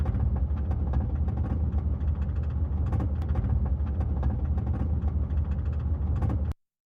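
A rattling, noisy car engine drones loudly and steadily for about six seconds with clattering knocks, then stops abruptly.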